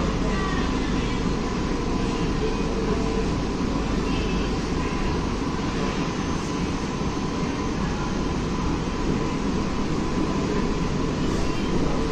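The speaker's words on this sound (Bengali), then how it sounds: "বন্ধুরা, আমাদের ট্রেন এখন ক্রস করছে ইছাপুর স্টেশন।" Aboard an EMU fast AC local train speeding through Ichapur station on a non-stop run, a continuous loud rumble and rattle of wheels and carriage persists throughout.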